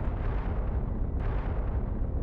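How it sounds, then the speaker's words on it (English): A massive star's supernova explosion is rendered as a deep, loud, continuous roaring rumble that fills the whole stretch, with a faint swell partway through and no voices. "The violent, destructive explosion that marks the death of a massive star."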